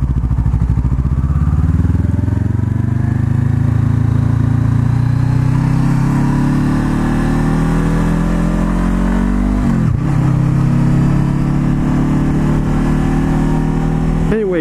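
A Honda CBR500R motorcycle engine loud and close, revving in rising and falling sweeps as it downshifts, with a sharp throttle blip near the end, continuous without pauses.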